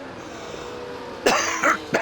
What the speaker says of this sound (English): Little bit of cough